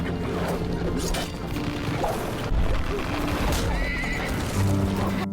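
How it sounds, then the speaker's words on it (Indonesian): Horses ridden by mounted bandits chase a boy in the martial-arts film Sakra, with loud neighing and whinnying over dense galloping hoofbeats and clattering impacts, all up close in a busy action soundtrack. "Adegan berganti saat anak itu dikejar para perampok berkuda."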